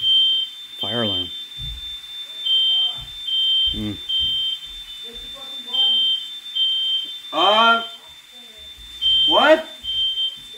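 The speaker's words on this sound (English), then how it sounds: "Fire alarm." A kitchen smoke alarm sounds a continuous high electronic tone that drops out briefly a few times, while several people talk and exclaim loudly over it.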